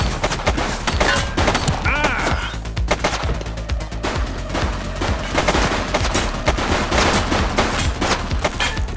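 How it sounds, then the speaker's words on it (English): A suspect fires repeatedly in The Precinct, a police game, with rapid loud gunshots crackling in dense bursts throughout and brief voices mixed in. "He's shooting!"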